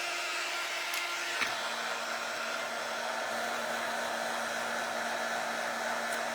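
A hair dryer blows steadily on a fabric Santa ornament, a constant close whooshing hum with a faint click near the start, no talking.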